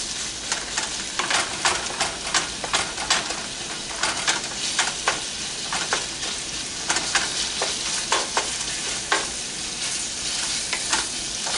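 Ground meat for taco salad browns in a pan with a steady, loud sizzle, broken by repeated scraping stirs of a utensil at an uneven rhythm throughout.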